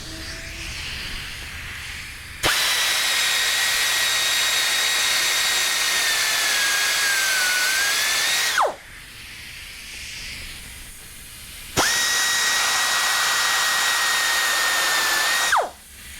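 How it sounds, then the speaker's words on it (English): A Dremel or small disc grinder grinds the swaged pin of a 1969 Cougar door hinge in two long, loud, high-pitched bursts, each whining down as it stops, with quiet pauses around them. "we're going to need to use a Dremel tool or a little disc grinder to carefully get in here and burn off those swedges"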